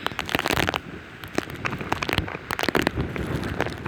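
Heavy hurricane rain pours down in dense, irregular bursts onto flooded ground, with sloshing and gusty crackles close by, no talking.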